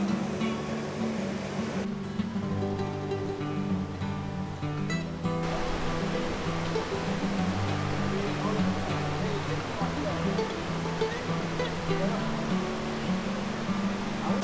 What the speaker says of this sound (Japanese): そしたらもう大迫力の滝、もう滝壺近くですね。